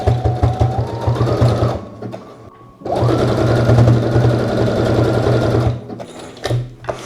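A sewing machine runs a zigzag stitch along a sweatshirt sleeve in two long steady bursts with a short pause between them and a stop near the end, its motor whirring loudly and rhythmically.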